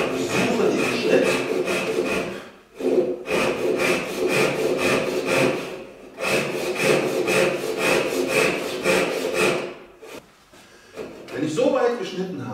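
A hand saw cuts through wood in steady, rhythmic back-and-forth strokes, loud and close, with short pauses between runs of strokes.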